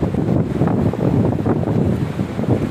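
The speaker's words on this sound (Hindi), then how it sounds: "देखो जनाब है लहर आ रही" Sea waves roll toward the shore under heavy wind buffeting the microphone, a continuous loud low rumble and wash with no clear breaks.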